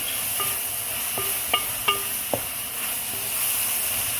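Sri Lankan-style bitter melon fries in oil, a soft constant sizzle with a few faint metallic clinks and taps from a utensil, no voices.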